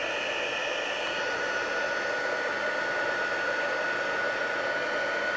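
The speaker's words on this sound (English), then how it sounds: "we'll bring in my heat tool and heat set that." A heat gun heat-setting embossing powder blows a steady, continuous hiss of hot air, close and unbroken, with no talking over it.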